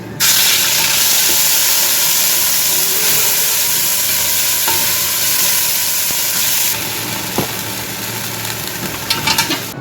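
Garlic, ginger and green chilies fry with curry leaves in hot oil for kadhi pakora, giving a loud, steady, close sizzle and hiss that eases slightly near the end, with a few faint utensil clinks.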